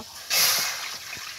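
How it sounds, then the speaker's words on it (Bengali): Water pours into a pan set on the stove for making payesh, a sudden rushing splash that starts abruptly and settles into a softer steady hiss, close by and alone. "এবার আমি জল দিয়ে দেব।"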